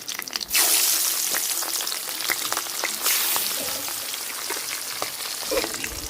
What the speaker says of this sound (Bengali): মাথার সাথেই পাবদা মাছ দিয়ে দিতেছি।